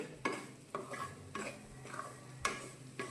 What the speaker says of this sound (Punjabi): ਬਸ ਇਹਨੂੰ ਹੁਣ ਆਪਾਂ ਲਗਾਤਾਰ ਹਿਲਾਉਂਦੇ ਹੋਏ ਬੇਸਣ ਨੂੰ ਭੁੰਨਣਾ